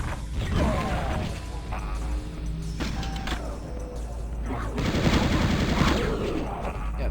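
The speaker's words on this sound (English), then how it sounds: "Yeah, the chain gun's great." Chain gun blasting rapid automatic bursts in the shooter Chasm: The Rift, loud clattering fire in several stretches with mechanical clanks between, a voice briefly talking under the gameplay.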